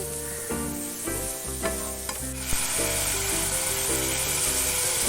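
Spice masala with coriander powder fries in a pan with a close, steady sizzle, joined by clanking stirs of a utensil against the pan in the first half, then an even frying hiss.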